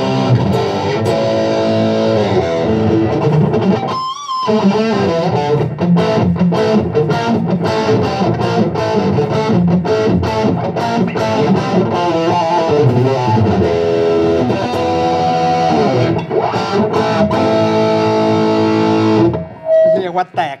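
An inexpensive Newcomer electric guitar played through heavy distortion rings out loud and saturated, with sustained chords and riffs running continuously, a brief pause midway, and the tone cutting off near the end.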